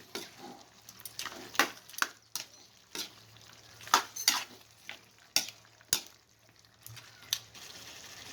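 Chicken adobo simmering in coconut milk in a pan, stirred with a utensil, irregular scrapes and clinks against the pan over a soft low bubbling, fairly quiet and close, with no voices.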